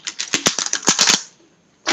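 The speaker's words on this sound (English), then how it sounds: "let's just grab the cards here, and as I shuffle" Tarot cards being shuffled by hand, a quick run of crisp flicks and riffles, then a pause before another short burst, close up and without talk.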